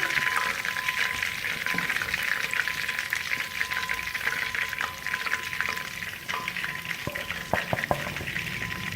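Spicy chicken pieces frying in oil over a medium flame, giving a steady, dense sizzle that continues evenly throughout with a few small pops and clinks near the end.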